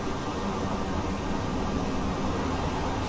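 Learjet 35A engine noise in Microsoft Flight Simulator 2020, a steady broadband jet roar with a faint high whine, even and unchanging at moderate loudness, with no voices.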